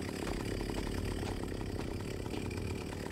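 A chainsaw in the video game Them and Us roars continuously, loud and gritty, with a rough engine rattle that holds steady throughout and no voices.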